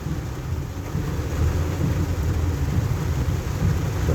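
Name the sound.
heavy rain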